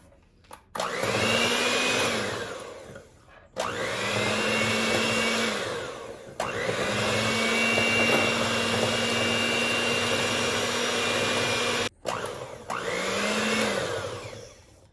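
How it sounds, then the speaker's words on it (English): Electric mixer beating eggless cake batter made with oil instead of butter, a steady whining motor hum in several long runs broken by short stops, close and fairly loud. "Instead of butter, I'm going to use oil, and I'm going to beat that now"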